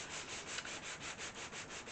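A flat sanding block rubbed by hand over wood during furniture restoration, giving a steady rhythmic rasp of about ten even back-and-forth strokes, close and alone.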